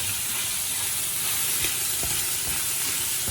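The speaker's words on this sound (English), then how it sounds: "I'm just going to keep stirring this and browning it" Mince browns in a hot pan while being stirred, a continuous hiss and sizzle with a few soft scraping bumps from the spoon, close up and without talk.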